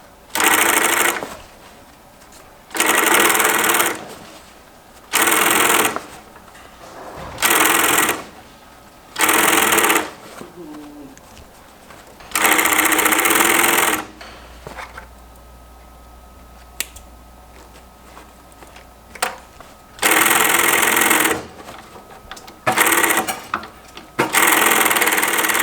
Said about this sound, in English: So what it does is it does a chain stitch hem.